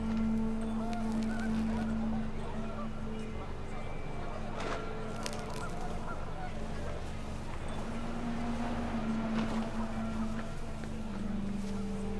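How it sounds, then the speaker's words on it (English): Panicked geese honk in the video game What Remains of Edith Finch, a steady stream of goose calls over windy outdoor ambience, with a sustained low tone running through. "The wind picked up, and panicked geese appeared and quickly went."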